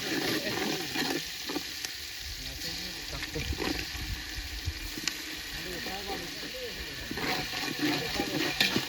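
Onions frying in a pan in a home kitchen, a steady sizzle with stirring and scraping running throughout, under intermittent conversation.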